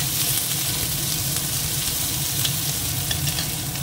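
A large chopped onion frying in oil in a pan gives a steady, close, even sizzle and hiss throughout, with no talking.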